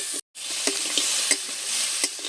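Spiced pond fish and crab curry sizzles steadily in a pan as it is stirred, with a brief gap and a few soft scraping knocks over the constant frying hiss.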